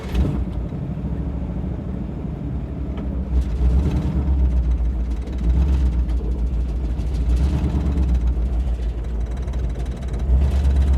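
A 1964 Impala wagon engine running rough, a loud low rumbling drone that surges and dips unevenly, close by and without voices.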